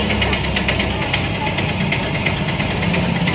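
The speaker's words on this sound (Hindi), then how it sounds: "अभी वो बाइक स्टार्ट हुआ" A motorbike engine idles loudly and steadily nearby at a Vishwakarma Puja celebration, with a constant rough, pulsing rumble throughout.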